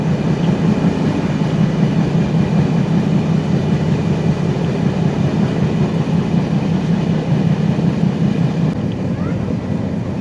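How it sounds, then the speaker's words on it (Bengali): A train running through Lohagara station without stopping, on the Kolkata to Dhaka route, rumbles along steadily at close range, a continuous low roar with faint rattling throughout. "লোহাগড়া স্টেশন স্কিপ করছে আমাদের ট্রেন এখন।"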